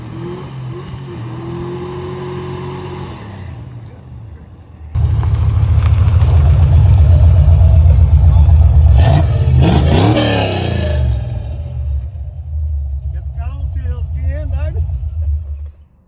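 Chevelle V8 engine idling, then revving hard and loud up close, with a surging roar that settles back to a rumbling idle.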